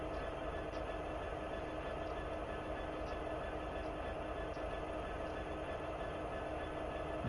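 A train rolls past in the Train Sim World 2 simulator, a steady continuous rumble with faint regular clicks of wheels on rail joints, moderately quiet and unbroken throughout.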